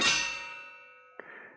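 A metal pan struck and processed with EQ and reverb, ringing with a long bright decaying tail, followed by a second softer clang near the end.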